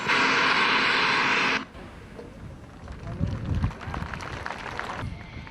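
A Lockheed Martin F-16I Sufa fighter jet at an Israeli air base, a loud roaring engine rush that cuts off abruptly, followed by quieter rumbling and talk-like sound.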